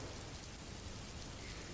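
Steady soft rain and wind from a free background rain track, a faint, even wash of patter with no voices, constant throughout.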